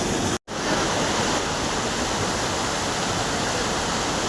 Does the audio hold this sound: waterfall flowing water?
yes